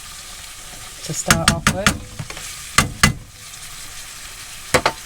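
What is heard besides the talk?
meat browning, sizzling in a pan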